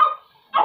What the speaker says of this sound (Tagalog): Maingay yung aso eh.